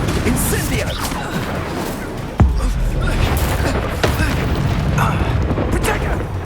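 An Incendio fire spell cast in Hogwarts Legacy bursts as one sharp, loud boom partway through, over constant rumbling, crackling battle noise.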